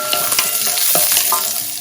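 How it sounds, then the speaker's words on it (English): Onions, garlic and ginger fry in olive and sesame oil, a steady close sizzle broken by the scrape and clatter of stirring in the pan. "I'm going to add my olive oil, sesame oil. I'm adding my onions, garlic,"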